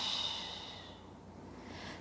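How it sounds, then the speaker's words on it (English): Slow exhaled breath during a beginner yoga session for posture, a soft airy hiss that fades over two seconds, close and quiet with no talking. "just exhale and feel the belly come down into the mat and release"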